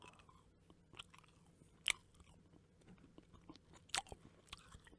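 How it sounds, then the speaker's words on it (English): Sour Patch Kids candy chewed close to the mic, with faint soft mouth sounds and two brief sharper crunchy bites standing out in an otherwise quiet stretch. "You hear that? I'm eating those Sour Patch Kids."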